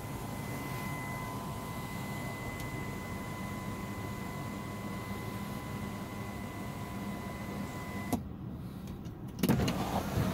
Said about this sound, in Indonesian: kalau bisa sekali klik untuk membuka tirai, kalau sekali klik lagi untuk membuka sunroofnya